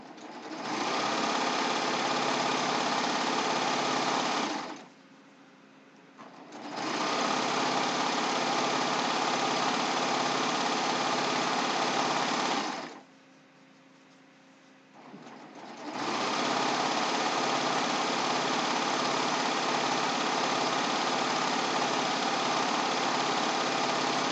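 A serger sewing machine runs in long, loud, steady high-speed stretches, stopping twice for a couple of seconds each time before starting up again, with no talk over it.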